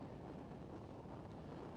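Gusty crosswind buffets the microphone at an outdoor night soccer field, producing a steady, loud low rumble that fills the whole clip without a break and with no voices.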